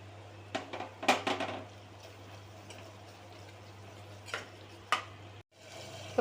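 Curry masala powder is stirred into tomato and onion frying in oil, with scattered spoon scrapes and clinks against the pan over a faint low sizzle and a steady hum, quiet throughout.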